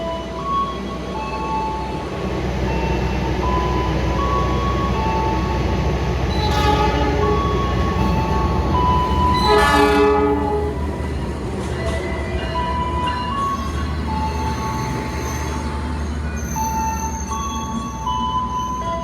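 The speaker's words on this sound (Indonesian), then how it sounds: "Bersilang dengan kereta api Lodaya pagi dari Solo ke Bandung teman-teman." A Lodaya passenger train on the Solo to Bandung line rushes past a moving train, a loud continuous rumble and clatter of wheels with a brief horn blast midway and metallic squeals near the end.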